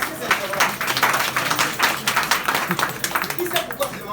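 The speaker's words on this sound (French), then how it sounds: "Est-ce qu'on peut applaudir pour elle?" Scattered clapping from an audience applauding a woman in a French-speaking classroom or seminar, uneven and mid-level, with the hand claps running steadily through the whole stretch.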